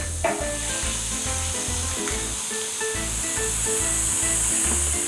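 A vegetable sandwich grills in butter on a hot pan, giving a steady, close, moderately quiet sizzle with faint scraping and pressing sounds and no talking.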